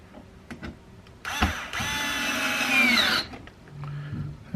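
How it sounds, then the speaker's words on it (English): A Phillips screwdriver drives a screw into an IKEA Kallax drawer, giving one loud whirring burst of about two seconds, with light taps and clicks before and after. "you need a Phillips screwdriver to put those in"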